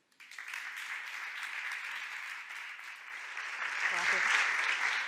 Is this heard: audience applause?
yes